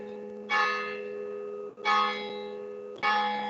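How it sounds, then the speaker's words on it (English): Church-like bells ringing clearly in the background, three separate struck tones roughly a second and a half apart, each one ringing on and slowly fading before the next strike. "I can hear bells in the background."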